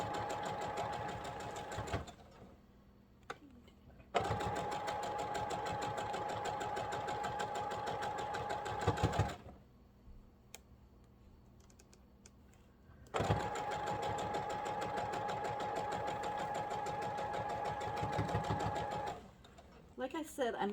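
Sewing machine stitching strips of a Double Irish Chain quilt block, running in two long steady bursts with pauses between, close and moderately loud, with occasional talk in the gaps.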